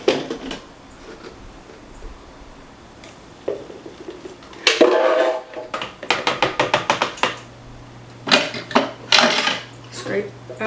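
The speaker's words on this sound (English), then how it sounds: "Scrape out your blender." Blended corn batter is scraped out of a blender, with scattered clinks, knocks and scraping strokes against the jar that grow busier and louder partway through, set against a quiet kitchen.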